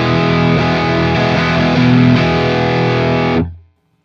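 Electric guitar played through a Fender Tone Master Pro amp modeler on an IR preset, a loud, heavily distorted sustained chord ringing steadily for about three and a half seconds before cutting off abruptly.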